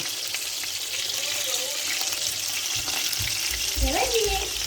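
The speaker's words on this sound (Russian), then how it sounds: "Жарятся у меня котлетки." Meat cutlets sizzle and crackle in a pan, a steady frying hiss with a few clinks and stirring sounds nearby.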